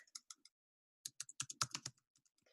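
Bursts of keystrokes on a computer keyboard, close and faint, with a short pause and then a denser flurry of clicks before the tapping trails off.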